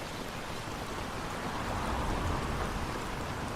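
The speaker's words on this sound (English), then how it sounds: "Heavy rain fell on the deserted highway, the drops hitting the windshield with an almost inhuman force" Heavy rain pouring down on a deserted highway at night, drops pounding a car windshield in a dense, steady roar with no pauses and no voices.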